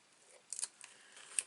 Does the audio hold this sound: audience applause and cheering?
no